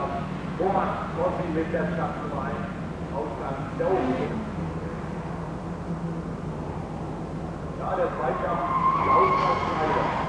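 Touring race car at Hockenheim in 1990 spinning out, a steady roar of engine and skidding tyres running the whole way with a swell near the end, under continuous commentary.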